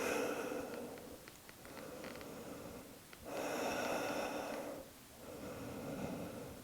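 Deep, slow breaths in yoga child's pose: long audible inhales and exhales with brief pauses between them, close and soft, with no speech.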